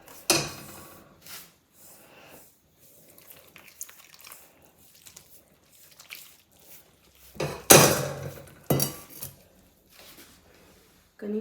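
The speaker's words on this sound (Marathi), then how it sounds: "आणि याच्यामध्ये थोडंसं मीठ घालून आपण कणिक मळून घेऊयात." Salted paratha dough being kneaded by hand in a bowl, with intermittent soft slaps and presses separated by quiet pauses; the pressing grows louder and busier near the end.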